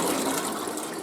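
Newly installed toilet flushing, a brief steady rush of water gushing into the bowl, close and fairly quiet, with no talking.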